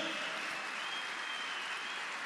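Steady, dense applause from a large audience at a political party's candidate introduction rally, a continuous wash of clapping that sounds somewhat distant and faint, with no voices over it.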